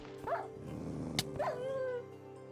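A hellhound in a magic-themed Minecraft modpack set in the Nether gives a short close yelp, then growls and whines for a moment, with a sharp bark-like burst in between and no talking.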